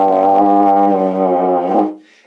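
A single sustained baritone horn note played with a loose, flabby embouchure or too little breath, buzzy and rich in harmonics, holding steady for about two seconds and then fading out.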